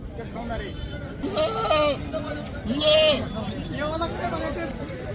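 Goats at the Kalamb Monday goat market bleat in several loud, wavering cries, one after another, close by over a steady murmur of crowd chatter and talk.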